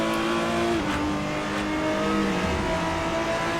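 A McLaren P1 racing in the Assetto Corsa racing game, its engine a loud continuous drone that shifts pitch slightly as it runs alongside other cars, with no talking.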